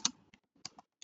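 A few quick computer keyboard keystrokes, close and isolated, clicking in an uneven little burst with silence between taps.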